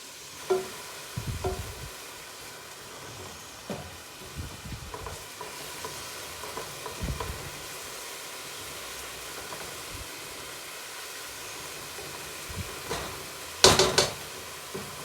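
Chopped onions sizzle steadily in a hot pan while being stirred with a spoon, with scattered scrapes and one sharp clatter of utensil on metal near the end.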